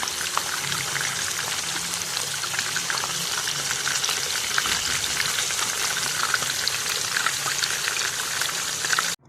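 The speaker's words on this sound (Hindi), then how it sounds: "ये हमारे चपली कबाब जो हैं ये फ्राई हो गए हैं" Chapli beef kebabs fry in hot oil with a loud, dense, continuous crackling sizzle that holds steady, close up, until it cuts off abruptly.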